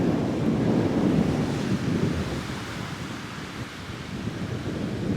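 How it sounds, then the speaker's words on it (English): Surf rolling onto a beach where people are fishing, a steady broad wash of breaking waves mixed with wind buffeting the microphone, continuous and fairly loud with no talk. "Look at this beautiful beach."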